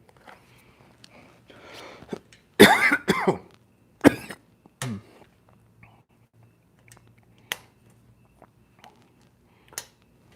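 A person coughs harshly in a short burst of several loud, rough hacks, then a few softer throat clearings and small clicks trail off into near silence.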